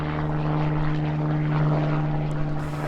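Propeller airplane passing low overhead at Hatcher Pass near Anchorage, Alaska, a steady droning engine hum with a strong buzzing tone, moderately loud and constant throughout with no talk.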